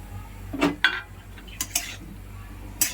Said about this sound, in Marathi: आता चांगलं परतून घेऊया।